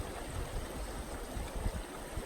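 A fast, ripping river current in Colorado or New Mexico fly-fishing water, rushing and gurgling as a steady, fairly faint wash with no talking.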